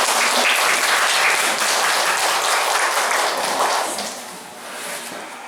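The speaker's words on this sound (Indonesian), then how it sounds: "Tepuk tangan untuk sekolah Anda" Loud, dense applause from an audience clapping for a school, a full wash of hands that stays strong for several seconds before easing off slightly and swelling again.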